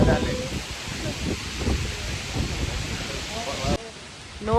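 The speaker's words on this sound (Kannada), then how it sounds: "ಎಷ್ಟು ಒಂದು ಗಾಳಿ ಅಂತ" Strong wind rushing through and shaking trees at Trimbakeshwar on a cold day, a broad continuous roar with gusty swells, while a person talks over it near the end.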